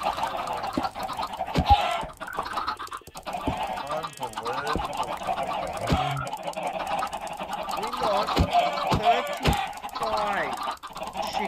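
Chickens in a Minecraft game cluck and honk repeatedly in a busy, fairly loud flock chorus, with a person talking over them now and then.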